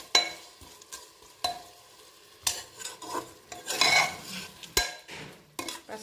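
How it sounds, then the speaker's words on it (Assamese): Chopped beans and carrots frying in a pan while a utensil stirs them, sharp metallic scrapes and clinks coming in irregular bursts over a soft, intermittent sizzle, close and without talk. "এতিয়া মই ইয়াতে বিন আৰু গাজৰ দিছোঁ কাটি পেলাই। এইখিনিও এতিয়া আকৌ ভালদৰে"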